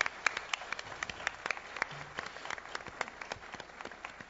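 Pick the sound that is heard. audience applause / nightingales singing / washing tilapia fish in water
audience applause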